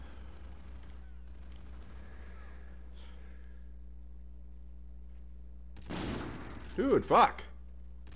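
Sniper rifle fire in a hardcore Call of Duty multiplayer match: a couple of loud gunshot bursts near the end, preceded by quieter game ambience and a brief exclaimed voice.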